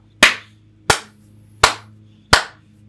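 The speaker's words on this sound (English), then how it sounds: "I'm assuming you joined me in a round of applause" Four loud, sharp hand claps ring out alone at an even, slow pace, each about two-thirds of a second apart, close to the listener.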